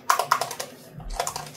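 Keys on a full-size mechanical RGB keyboard clack in a quick burst of sharp, close taps, a brief pause, then a few more presses including the Enter key.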